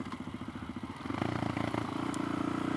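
A Suzuki DRZ motorcycle engine pulses at a loping idle, then the throttle opens and it revs up hard into a steady, loud buzzing roar at close range.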